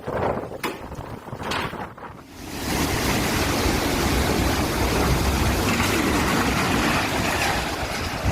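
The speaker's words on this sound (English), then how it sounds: "The Atlas World Voyager was hit by enormous 30-meter waves in the Southern Ocean" Huge 30-meter Southern Ocean waves slam into the cruise ship Atlas World Voyager, a loud, continuous roar of crashing water and wind that builds after a couple of seconds of quieter surging.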